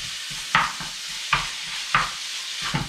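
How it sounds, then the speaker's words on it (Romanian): Minced meat sizzles in a hot pan, seasoned with paprika, with a steady frying hiss and a few scraping stirs of a spatula at regular intervals. "ca să se prăjească carnea noastră."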